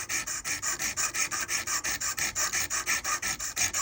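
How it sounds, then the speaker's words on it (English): Rapid, even back-and-forth rasping of a fine saw blade cutting through a heavy, wide silver skull ring, about five strokes a second, steady and close with no talking. "you can take a saw blade and run through it"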